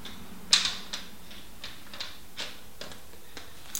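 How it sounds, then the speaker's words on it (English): A nut being wound by hand onto a bicycle cassette removal tool, giving a series of faint, evenly spaced metallic ticks and clicks, one sharper click near the start, with no talk. "wind the nut on"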